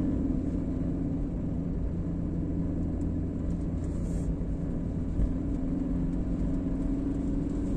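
A car in city traffic accelerates with a low, steady engine rumble and road noise heard from inside the cabin, with a brief change in tone partway through.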